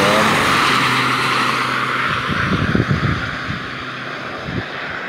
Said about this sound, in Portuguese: os carros passando.